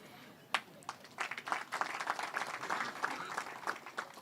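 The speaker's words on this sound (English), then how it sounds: "can you give them a big hand of applause, please?" A conference audience at a national strategic dialogue claps, scattered hands at first building into dense, fairly faint applause that continues steadily for several seconds.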